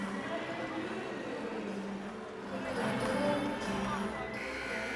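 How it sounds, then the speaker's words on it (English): An arena crowd at a women's volleyball national championship gold medal game grumbles in displeasure, a steady broad murmur that swells briefly midway, with a commentator talking over it. "Ooh, the crowd's not happy after that one."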